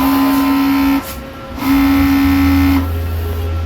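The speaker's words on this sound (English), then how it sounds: "Now let me do the nozzle test for you to see." An Epson XP600 printer running a nozzle test print gives off loud whining motor tones in two bursts, separated by a brief pause, then settles into a lower mechanical hum.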